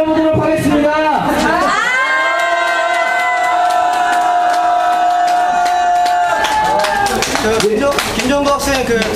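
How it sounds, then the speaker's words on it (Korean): A crowd of students at a university protest press conference at Dongguk University shouts a loud sustained cheer in unison for about five seconds, with scattered voices and noise before and after. "다 같이 5초간 함성 질러보도록 하겠습니다."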